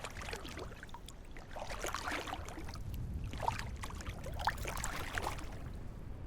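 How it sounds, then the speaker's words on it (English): Water splashing and sloshing plays softly throughout, with a couple of slightly brighter splashes standing out near the end against a steady watery background. "I just heard a splash"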